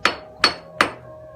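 A hammer strikes a limestone block three times at an even pace, each blow a sharp, loud ringing crack close by that decays quickly.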